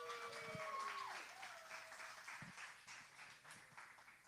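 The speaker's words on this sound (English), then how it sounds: "put your hands together for Pastor Hannah" Audience applause for a pastor, a steady moderate wash of clapping across a mixed crowd with some faint voices and whistle-like tones mixed in, fairly distant and sustained throughout.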